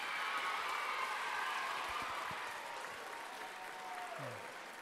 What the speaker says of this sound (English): Let's give all of our teams another round of applause.